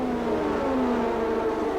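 Formula One cars, including Patrese's Brabham BMW and the Ferraris, launching from the grid at the start of the 1983 Italian Grand Prix at Monza, a steady loud engine drone with rising and falling revving tones throughout.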